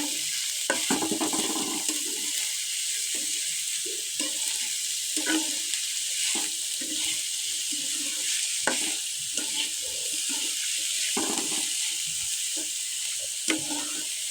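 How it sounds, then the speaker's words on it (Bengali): Chopped onions and chilies fry in a pan with a steady, bright sizzle, punctuated throughout by repeated scraping and clacking strokes of a stirring spoon, with no voices. "পেঁয়াজটা যতক্ষণ না ব্রাউন কালার হবে ততক্ষণ আমরা ভেজে নেব।"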